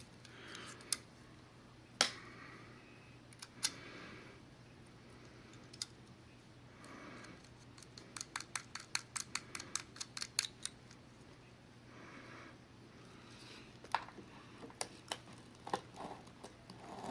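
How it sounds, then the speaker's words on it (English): Scissors snip at carpet during a carpet power-stretching job, with sharp isolated clicks and a quick run of several cuts in a row, close and fairly quiet. "Now, I usually finish this out with scissors, most often."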